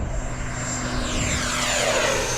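An E-flite F-16 70mm electric ducted-fan RC jet flies past at partial throttle, a loud, close, sustained whine with a sweeping tone as it passes, with no voices.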